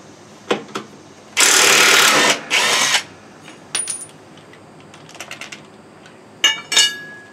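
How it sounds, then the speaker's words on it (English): A 1/2 inch impact wrench with a 5/8 socket, set low, removes the wavy mulch blades from a Ferris FW15 mower: two loud, close hammering bursts, one long and one short, followed by light metallic clinks and taps. "this is my 1/2 inch impact with a 5/8 socket"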